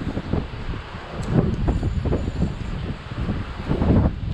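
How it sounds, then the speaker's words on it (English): Strong wind gusting outdoors on a cold day out fishing, a loud, continuous rumbling buffet against the microphone that rises and falls in waves with no talk. "There's so much wind."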